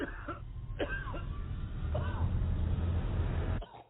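Several short coughs from a masked man on a plane ring out near and sharp over a constant engine hum, a few spaced bursts before the sound cuts off.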